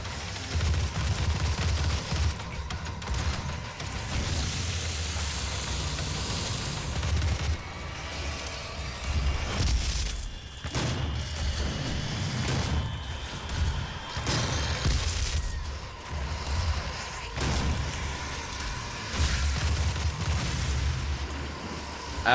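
An imp explodes amid steady gunfire and booms in DOOM (2016), with dense, repeated blasts and shots rolling through the whole stretch, loud and cluttered.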